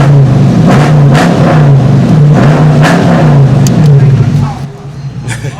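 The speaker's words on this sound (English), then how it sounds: "Let's rev the car for them." A car engine revs hard in repeated surges, loud and close, with an underlying mechanical drone that drops off near the end, while people talk over it.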